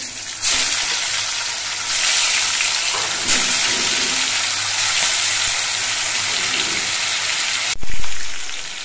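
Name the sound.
fish pieces frying in oil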